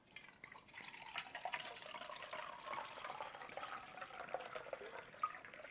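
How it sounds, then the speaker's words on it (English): Kangen microclustered water poured into a glass holding a little tea, a steady close liquid splash and trickle lasting throughout with small drip-like ticks, fairly quiet and with no talking. "Watch what happens when we add the Kangen microclustered water."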